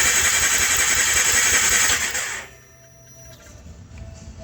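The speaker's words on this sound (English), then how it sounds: "all I'm doing is I'm cranking it over, trying to get oil pressure to the lifters before I actually fire" A 2010 Polaris Ranger 800 engine is cranked over without firing, a loud, steady churning whir for about two seconds that cuts off abruptly, leaving a quiet hum and faint ticks.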